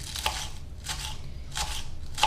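A knife slices cabbage finely for salad, giving four evenly spaced crisp cuts against a board, close and moderately quiet, with no speech.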